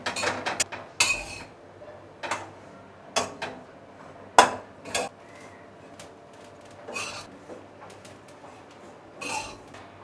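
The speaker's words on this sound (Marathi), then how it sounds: "यामध्ये ना आपण खोबऱ्याचा कीस घालूया आता हे खोबरं आपल्याला सोनेरी रंगावर परतून घ्यायचं आहे" Grated coconut being roasted and stirred in a kadhai, with irregular metallic scrapes and clinks of a spatula against the pan, loud and close, spaced by quieter gaps.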